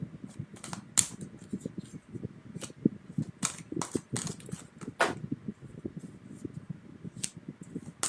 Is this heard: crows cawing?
no